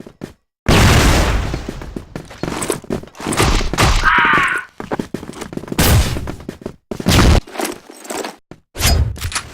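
Flash bombs and heavy gunfire in a close-combat shooter video game, loud repeated booming blasts and bursts of shots separated by short pauses, close and punchy.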